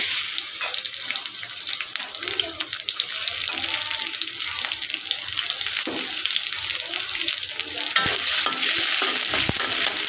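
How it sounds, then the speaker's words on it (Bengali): Chopped onions hitting hot oil in a wok, a loud continuous sizzle and crackle close up, with scraping stirs and splashes throughout and no talk. "কড়াইয়ে তেল দিয়ে গরম করে নিয়েছি এবার পেঁয়াজ কুচি দিয়ে দেবো"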